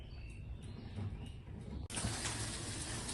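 Fish roe being washed under tap water. A faucet gushes on abruptly partway through as a loud, steady splashing hiss, after quieter moments with faint bird calls in the background.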